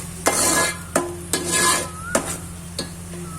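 Fried onion paste sizzles in oil in a pan for a Telangana-style fish curry, while a spoon scrapes and stirs it in a few distinct strokes, each followed by a bright hiss, close and clear.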